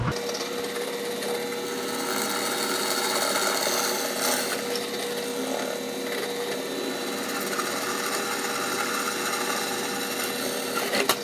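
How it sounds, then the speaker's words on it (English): A power drill grinds through stacked layers of checker plate and HDP plastic while a chainsaw mount is fitted to a four-wheeler, a loud, continuous, harsh whine and rasp that holds steady and close for about eleven seconds with no talking. "we're going to drill this and bolt right through all 3 layers of checker plate HDP"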